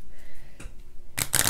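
A quick riffling flutter of tarot cards being shuffled up close, a soft tap followed by a brief dense burst of card snaps.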